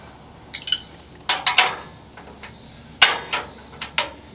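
Metal parts clinking on a Wood-Mizer LX150 sawmill as a part is tightened, several sharp, separate taps and clanks in small clusters, close and fairly loud against a quiet background.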